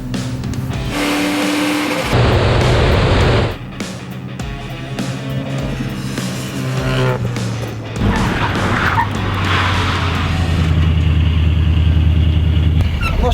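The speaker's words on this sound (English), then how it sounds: "So maybe a braking test would be even more fun." A car brakes hard during a braking test, its engine and tyres loud and continuous with a skidding, squealing edge, a brief drop in level midway, then building again through the end.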